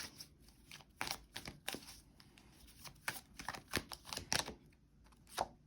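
Tarot cards riffled and shuffled by hand close by, a busy run of quick crisp flicks and slaps with irregular rhythm and no talking.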